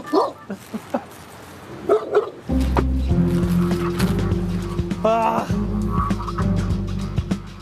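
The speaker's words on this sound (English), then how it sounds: "But this dog isn't one for whispering." A police dog barks loudly and repeatedly at close range, sharp barks and yips mixed with whimpers over a constant engine-like hum, with brief voices and a few rustles early on.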